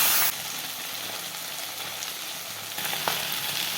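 A salted, turmeric-coated fish head fries in a wok, giving a steady, moderately loud sizzle and hiss with a faint clink near the end, no talking.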